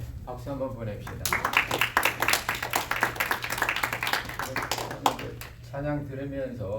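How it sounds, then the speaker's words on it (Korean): A church congregation claps together after a hymn, a dense burst of hand clapping lasting several seconds at moderate distance, with a voice speaking before and after the clapping. "박수 한번 보냅시다"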